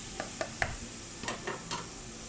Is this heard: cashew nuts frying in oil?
yes